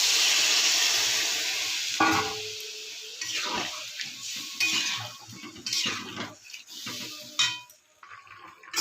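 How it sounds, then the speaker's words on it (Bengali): Water is poured into a pot of frying potato and egg curry, bringing bursts of hissing sizzle along with metal clanks and stirring scrapes that rise and fall before the clip ends abruptly. "এই জল দিয়ে দিচ্ছি।"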